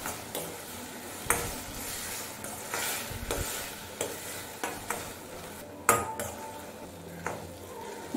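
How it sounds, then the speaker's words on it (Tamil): Crushed turkey berries sizzle softly in hot oil, with a steady frying hiss broken by repeated clinks and scrapes of a spoon against the pan as they are stirred. "சுண்டைக்காயை அந்த எண்ணெயிலே நல்லா வதக்கிக்கோங்க."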